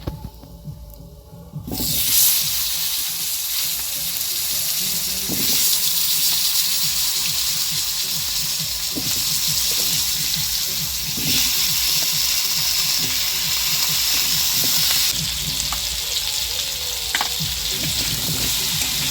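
Potatoes frying in mustard oil with a pinch of turmeric hiss and sizzle in a steady, dense crackle close by. The sizzle runs unbroken from a brief quiet start, with scattered pops and no talk.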